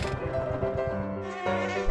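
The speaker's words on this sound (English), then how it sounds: "Run away from bumblebees. Won't you stop chasing me, please?" Cartoon bumblebees give off a close, continuous droning buzz that wavers in pitch, set against bouncy children's song music.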